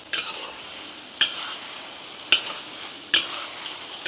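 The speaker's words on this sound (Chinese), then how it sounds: "来点豆瓣酱，火锅底料。 炒出香味" Chili bean paste and hotpot base stir-fried in a hot oiled wok, a steady bright sizzle broken by four sharp scraping strokes of the spatula, close and alone.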